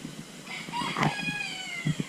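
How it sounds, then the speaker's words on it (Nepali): A rooster at the Pudung farm bird sanctuary in Kalimpong crows once, a fairly loud harmonic call peaking near the middle, with faint clucks and farm noise around it. "यो कुखुरै होला यो त भाले"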